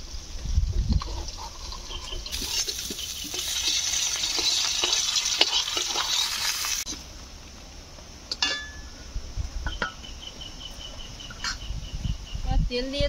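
Koi fish frying in oil gives a steady, moderate sizzling hiss for several seconds, then fades to quieter pops and faint clinks of handling.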